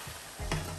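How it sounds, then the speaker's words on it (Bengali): Chicken pieces frying in spiced oil in a home kitchen pan, a short hiss and sizzle that swells as the food is stirred, close and moderately loud with no voices. "এক মুখা চিকেন ফ্রাই হইব আর মশলার মধ্যে আট করে দিব।"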